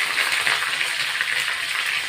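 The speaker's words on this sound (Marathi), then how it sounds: "तेल गरम ठेवले फोडणीसाठी." Curry leaves dropped into hot oil for a tempering, crackling and sizzling in a steady, dense, close hiss that continues evenly throughout, with no voices.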